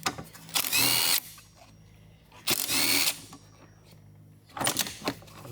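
Power tool, likely a drill or impact driver, spinning off 14mm nuts holding the lower wiper on a 2010-2015 Toyota Prius, in three short whirring bursts with quiet gaps between, close and loud.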